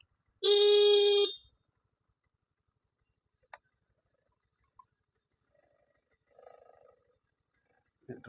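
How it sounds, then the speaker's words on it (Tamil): One short, loud honk from a Hero Maestro scooter horn, followed by quiet stillness and a few faint clicks and shuffles. "ஹாரன்"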